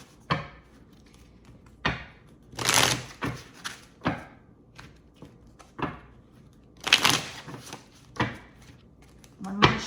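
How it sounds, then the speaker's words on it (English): A tarot card deck being shuffled by hand, giving a string of short riffling and tapping bursts at irregular intervals, fairly close and moderately loud, with no talking over it. "Give it a good shuffle."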